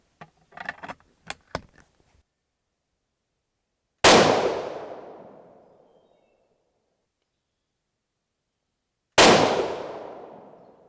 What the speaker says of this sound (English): So we'll shoot 2 more of these and then we'll move on to the Gold Dot.